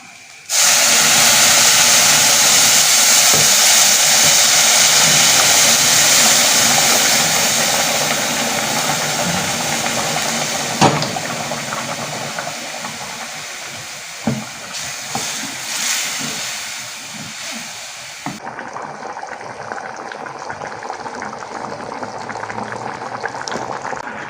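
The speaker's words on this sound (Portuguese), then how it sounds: "Dou mais uma torradinha aqui e coloco água. Eu tô colocando água quente" Hot water poured into a pan of toasted garlic seasoning, starting with a loud, steady boiling hiss and sizzle that slowly fades into quieter bubbling, with no talking.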